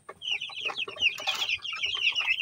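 Twelve-day-old broiler chickens clucking and peeping in a dense, overlapping chorus of high chirps, with a brief burst of louder flock noise midway.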